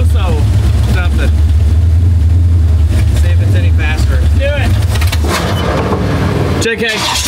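A V8-powered micro car engine drones loudly and steadily during a test drive, with strong low rumble and wind buffeting, and voices shouting over it near the end.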